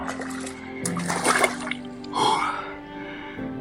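Someone plunges into an icy Karelian lake after a sauna with birch switches, surrounded by pines: two loud splashes with sloshing and dripping water, close by, with a brief gasp or voice between them.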